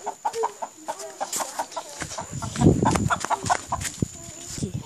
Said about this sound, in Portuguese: Um casal de galinha preta.